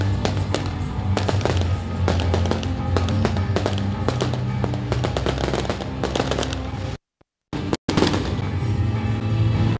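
Dense fireworks at the Santa Lucia festival in Belpasso, with rapid crackling bursts and booming reports running near and loud almost continuously, then a brief silent gap before the barrage resumes.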